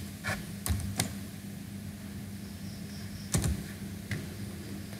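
A few scattered keystrokes on a computer keyboard as text is typed into an Android Studio field. The clicks are sharp and isolated, with long pauses between them, and sound close but fairly quiet.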